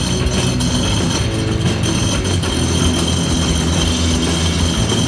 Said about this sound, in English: Now it's time to start your engine.